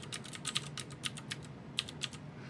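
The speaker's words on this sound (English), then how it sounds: "So we'll type in our IP address," Rapid bursts of keystrokes on a computer keyboard while entering an IP address, with irregular clicks and a few sharper taps, close and clear with no talking.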